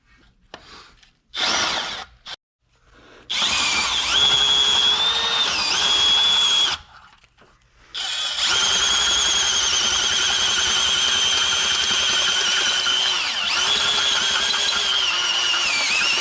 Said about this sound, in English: we need to put a 3/4 inch hole in them